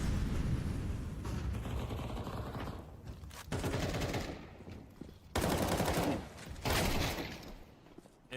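Gunfire in a Counter-Strike match arrives as dense bursts of rapid automatic fire and sharp shots, with loud clusters broken by short gaps. It is heard up close and alone, with no voices over it.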